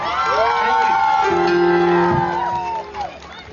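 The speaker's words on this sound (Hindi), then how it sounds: "बहुत सारी तालियां मेरे शहजादे के लिए।" A concert crowd at a show in Bahria Town cheers loudly, with sustained whoops and shouts riding over a wash of crowd noise before it tapers off near the end.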